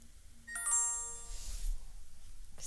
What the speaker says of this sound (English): don't know why my phone just did that.